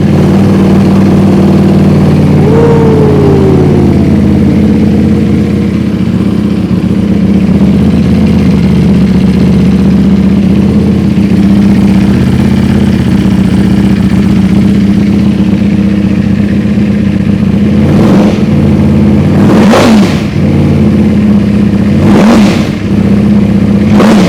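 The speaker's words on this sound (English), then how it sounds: "Our very first start with our 2019 Ducati Panigale V4S CS Racing slip-on exhaust." A 2019 Ducati Panigale V4S fitted with a CS Racing slip-on exhaust starts and settles into a loud, steady idle, then gives several sharp throttle blips that rev high and fall back, close and unaccompanied by talk.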